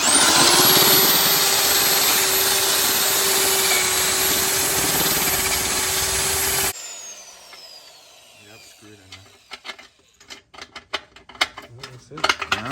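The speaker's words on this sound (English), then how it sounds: "We're gonna be tapping the bung now." A power tool drives a tap to cut threads into a steel oil pan bung for a turbo BMW Z3, whining loud and high for about seven seconds, then stopping, followed by scattered metallic clinks and handling noises.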